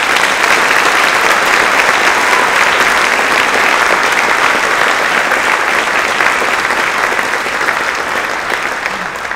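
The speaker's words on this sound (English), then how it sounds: "please join me in a round of applause" Sustained applause from a room full of people at a school awards night, honoring service members and veterans in attendance; dense, steady clapping that holds for the whole stretch with little variation, no voices standing out.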